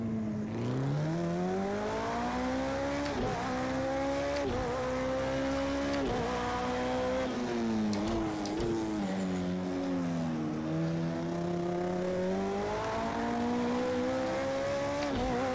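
An LMP2 prototype race car engine in Project Cars 2 drones steadily and loudly for the whole stretch, its pitch climbing and dropping repeatedly through gear changes and corners, with no one talking over it.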